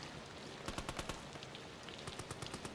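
Rain pours steadily in a video game, a dense, even hiss of falling water with bursts of sharp crackling patter in rapid clusters, heard alone and fairly faint.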